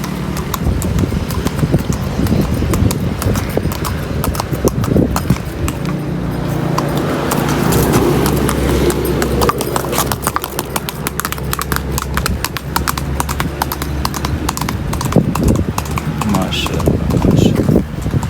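Hooves clip-clop steadily and close by as a rider sits on a mare at a scenic viewpoint, with a brisk, continuous rhythm over outdoor background noise.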